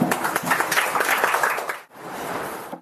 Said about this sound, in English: Round of applause, Jannat Ali.